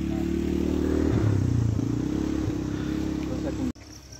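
A motorbike rides along the Champadevi hiking trail with a loud, close engine drone and a brief rise in revs, then the sound cuts off abruptly near the end.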